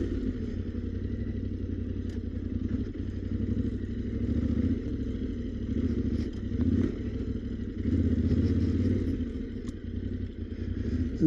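Yamaha Tenere 700 motorcycle riding off-road in second gear, a steady close engine drone with low rumble and clattering over rough trail, swelling in loudness a few times without any talk.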